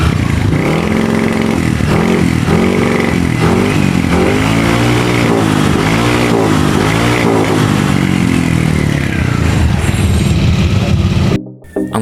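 A Yamaha NMAX V2 Y-Connect scooter with a faulty ECU and a lit check-engine light runs close by, its engine chugging and revving unevenly with clattery mechanical noise throughout before briefly cutting out near the end.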